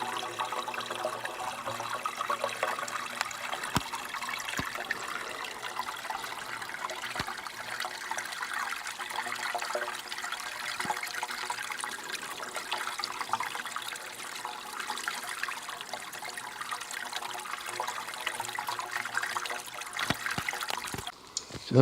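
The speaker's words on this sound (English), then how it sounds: "Boy, that's a lot of water for this area." Water pouring and trickling from a newly tapped hillside spring, a steady close splashing flow lasting throughout, with a few small knocks and no talk.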